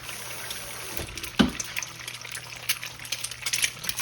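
Egg being cooked over easy in a skillet, with a soft steady sizzle, a brief clatter near the start and light scraping and crackling throughout; nobody speaks.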